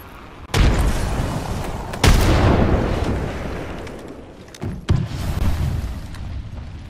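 Frag grenade explosions in Apex Legends, three loud booming blasts with abrupt onsets, each trailing into a rumbling decay, close and heavy, no voices.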